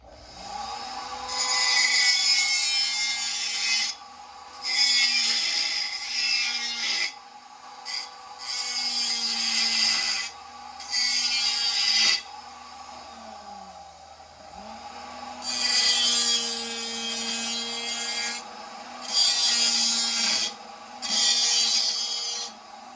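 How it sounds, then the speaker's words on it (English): A Dremel cut-off wheel cuts in a series of short, loud, gritty grinding bursts, each separated by a brief pause where the tool's motor whine carries on at a lower level. "Cut off wheel from Dremel again."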